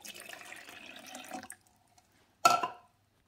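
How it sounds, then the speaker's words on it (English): A vinegar and water descaling mixture is poured into the water reservoir of an Aldi Ambiano CM-202 single-serve K-Cup coffee maker: after faint handling noise and a quiet pause comes a short, close splashing pour. "Now we're going to pour this into the water reservoir."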